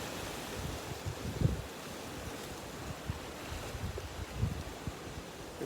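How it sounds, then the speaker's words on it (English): Ocean waves wash against the shore on the central California coast at Cambria, heard as a steady broadband surf roar with intermittent low wind buffeting on the microphone, with no voices. "I'm out at the ocean in a place called Cambria. It's a small town on the central California coast"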